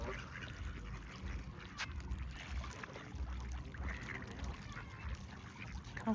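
Ducks and geese mixed together at a pond in the evening, their quacks and honks scattered across a steady outdoor background, with no one speaking.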